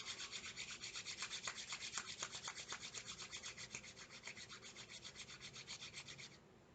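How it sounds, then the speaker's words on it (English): Palms rubbed briskly together, a fast rhythmic rasping swish repeating evenly for several seconds close to the mic, then stopping abruptly, with no talking. "rub palms"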